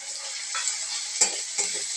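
Black pavta beans being stirred and sautéed with red chili powder, garam masala, coriander powder and salt in a pan, giving a steady soft sizzle with a few scraping stirs, close and alone.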